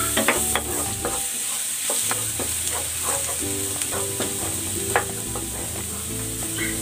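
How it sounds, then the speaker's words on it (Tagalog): Ginger and garlic sauté in a hot pan with a bright, continuous sizzle, punctuated by frequent metallic scrapes and taps of a spatula stirring close up; no one speaks. "Magigisa na ako ng luya. Igigisa ko na rin tong bawang."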